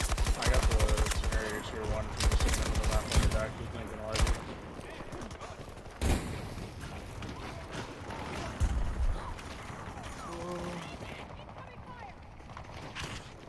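Battlefield 2042 LCMG light machine gun with a 200-round loadout, firing in sustained bursts of rapid shots with sharper single cracks mixed in, amid dense battle noise while a player talks over it.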